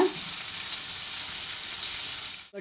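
Onions sautéing with green chillies in a pan for Madurai thanni chutney produce a continuous loud frying hiss up close, which cuts off briefly just before the end, with no voices.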